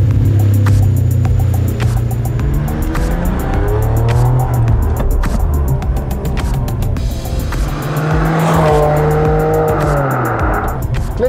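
Ferrari with 485 hp engine idling and rumbling steadily while its metal gated manual shifter is moved through the gears, with faint clicks over the continuous engine drone.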